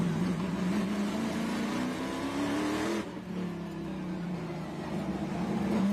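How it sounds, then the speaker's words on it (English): Trans Am TA2 muscle cars racing at Nashville, a loud continuous V8 roar rising in pitch, briefly dipping at a gear change or passing moment, then climbing again as the engines rev hard. "You're watching Music City roar to the sound of muscle cars."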